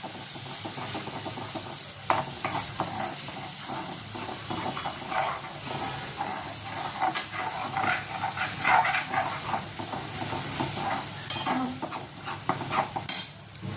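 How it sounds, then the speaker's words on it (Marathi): Masala spices sizzle and sauté in a hot pan, stirred with a utensil that clinks and scrapes against the metal over a steady hiss of frying that runs throughout, with no talking. "हा मसाला छानसा परतून द्यायचा आहे"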